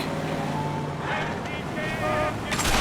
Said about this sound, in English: He's got a throaty car. Do you hear that? Listen to that thing.